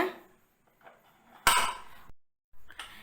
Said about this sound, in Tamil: குக்கரை மூடிட்டு வெயிட் போட்டுருங்க